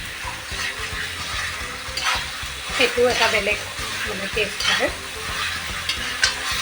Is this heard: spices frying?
yes